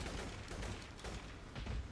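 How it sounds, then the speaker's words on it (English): Gunfire in the video game InFAMOUS First Light, a quiet, dense rattle of rapid shots with a few louder bursts, heard faintly in the distance. "I'm hearing gunfire."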